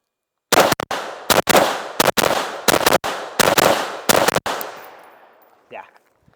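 Rifle shots fired in quick bursts at a shooting stance practice, about seven sharp, loud cracks close together with echoing tails, then a short quiet end.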